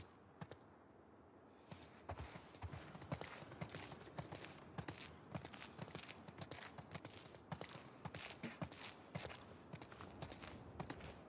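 Horse hooves clip-clop in The Last of Us Part II, a quiet start giving way to steady, irregular hoof strikes from more than one horse walking, continuing throughout with faint background ambience and no talking.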